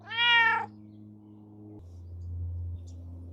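A cat gives one short, clear meow up close at the start, followed by a quiet low hum inside a camper travel trailer.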